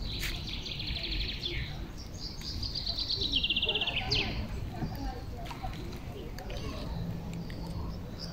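Birds sing in a spring forest park in Bucharest, clear chirping phrases and rapid trills standing out over a soft rustling background.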